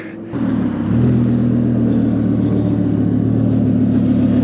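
An Audi R8's engine rumbles low and steady from inside the car while downshifting, its drone pulsing unevenly as if grabbing and letting go.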